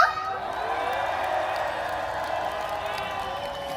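Festival crowd at an outdoor event in Daegu's Apsan clapping and cheering for several seconds, a broad sustained wash of applause with scattered whoops, moderately distant.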